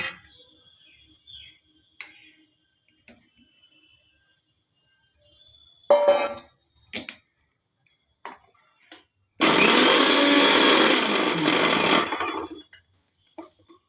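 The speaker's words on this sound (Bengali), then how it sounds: "আমি এটাকে সয়াবিনটাকে একটু পেস্ট করে নেব" An electric kitchen grinder whirs loudly for about three seconds, blending boiled soybeans into a paste for a vegetarian dhoka curry, after quiet kitchen clatter and a few short clicks.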